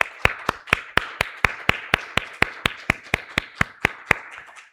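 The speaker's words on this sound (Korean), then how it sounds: "우리 같이 한번 박수하시겠습니다." A church congregation claps together in unison at a Korean worship service, sharp regular claps about four per second that stay steady and clear throughout with no talk.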